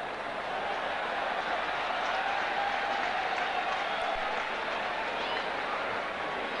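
Cricket crowd applauding Mark Taylor's fifty at a 1996 Titan Cup match against India, a steady, dense wash of clapping from a large stadium crowd that holds at an even level throughout.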